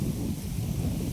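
Wind blowing outdoors past the microphone, a steady low rumbling buffet throughout the short moment, with no talking.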